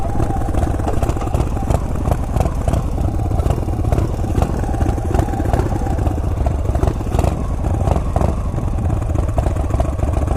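A motorcycle engine idles close by with a steady, rapid, slightly clattery chugging that holds at an even level throughout.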